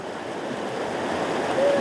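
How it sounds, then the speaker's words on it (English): Burn water rushing behind a moss-covered rock in the Lurg Burn, a steady, broadband wash of flowing water that holds constant and slightly swells toward the end. "I've got all the water rushing behind it"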